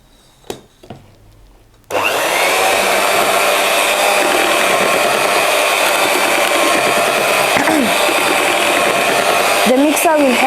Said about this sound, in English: The mixer will help so that there is no lumps in your cake.